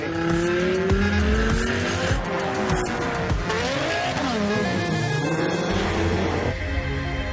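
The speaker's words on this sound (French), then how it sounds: "Quand la lumière tourne verte, là, on accélère au fond jusqu'à la ligne d'arrivée." A drag race car at full throttle roars loudly with rising and falling engine pitch and shifting gears, mixed with tire squeal and other engine noise, close and continuous with no speech.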